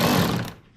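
A ratchet tightens a 10mm bolt into a plastic part on a 2014 Jeep Grand Cherokee Limited, a close, rapid clicking burr that runs loudly for half a second and then stops.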